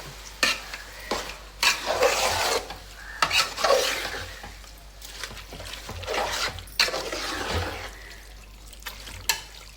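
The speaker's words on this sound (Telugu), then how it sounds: "పేస్ట్ అన్నీ మొత్తం ముక్కలు మొత్తం కలిసి తిప్పుకుందామండి." Chicken curry with spice paste gets stirred in a large pot, with close, repeated scraping and mixing strokes in an uneven rhythm and a soft wet sizzle underneath.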